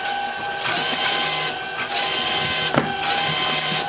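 A LAB510 labeller applies labels to cardboard cartons, running as a steady mechanical whir with repeated soft clacks and brief bursts, close and continuous with no talking.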